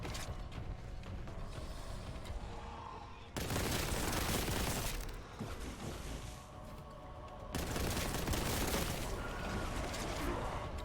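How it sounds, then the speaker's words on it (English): Shotgun fire in a video game comes in two heavy, loud blasts whose noisy roar lingers for several seconds, separated by quieter mechanical clatter and creaks. "That's a whole lot of shotgun you put in there"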